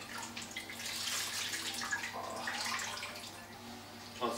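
Water drips and trickles as boiled cauliflower for a keto pizza crust is squeezed by hand, a soft, continuous liquid patter with small splashes, fairly close and without talk.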